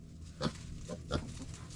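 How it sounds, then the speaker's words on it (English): A couple of short pig grunts, close by, against a low rumbling barnyard background. "Pig's already coming to check it out."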